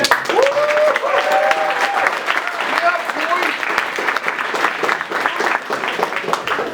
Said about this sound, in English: I want you guys to give a hand of applause for Thomas.